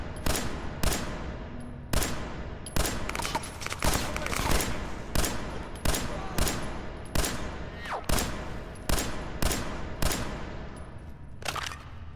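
Gunshots ring out in Fallout 4, a dozen or so sharp, loud reports spaced about a second apart in an irregular rhythm, each with a short echoing tail.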